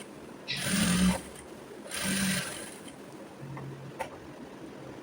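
A sewing machine stitches fabric being folded and shaped for a tailoring job, running in two clear bursts of rapid mechanical whirring separated by pauses, with softer ticking handling noises between and no talk.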